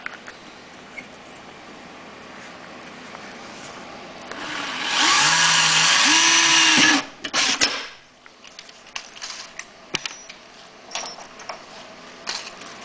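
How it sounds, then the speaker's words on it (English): An electric drill boring a 1/8 inch pilot hole at a marked spot while fitting an extended run-time fuel kit to a Honda EU3000is generator: one steady, loud whine lasting about two seconds, then stopping, with faint handling clatter afterward. "I'm going to start out by drilling just a 1/8 pilot hole right here at the mark I made."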